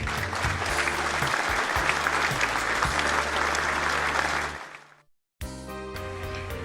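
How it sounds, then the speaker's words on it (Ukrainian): A theatre audience applauds the actors after a performance with loud, dense clapping that fades out, followed by a brief silence and then a short music cue. "глядачі проводжають акторів гучними оплесками"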